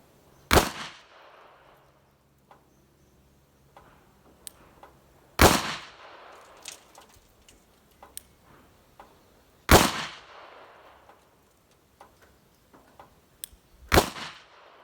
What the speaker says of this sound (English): I'm shooting Fiocchi 158 grain